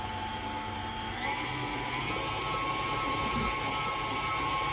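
An electric hand mixer whirs steadily as it beats lemon juice into butter, a continuous close motor drone that rises slightly in pitch partway through and keeps running evenly.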